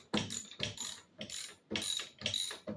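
A bolt being threaded with a tap and die set, giving a series of ratcheting, grinding turns in distinct bursts with short pauses between, close and fairly quiet, no voices.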